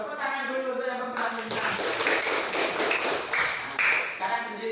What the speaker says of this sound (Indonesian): Tepuk tangan dulu untuk yang perempuan